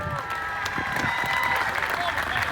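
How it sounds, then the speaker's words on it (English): A crowd claps in applause at the Peak District Highland Games opening ceremony, a steady spread of clapping at moderate distance while someone speaks over it on a public address. "Big round of applause here for Michaela"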